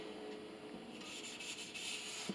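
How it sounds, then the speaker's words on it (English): Soft steady rubbing and rasping as a string polisher, like a giant eraser, is worked along the strings of a flower dulcimer; a close, continuous scrubbing with faint bright grit, with no voices. "got all the strings polished with our string polisher"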